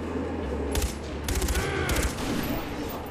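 Gunfire in the video game Far Cry 4: several short bursts of rapid shots crackle in clusters over a continuous background rumble, fairly quiet overall.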